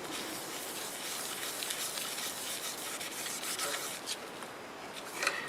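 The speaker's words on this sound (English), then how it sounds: "I'm going to get a coat of sanding sealer on this." Sanding sealer is rubbed onto a turned olive wood piece, a steady soft rasping friction close up, continuous with slight swells in loudness.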